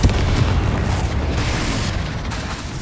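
A Bombarda spell explodes in the video game Hogwarts Legacy, a loud booming blast at the start that rumbles and slowly fades with no talk.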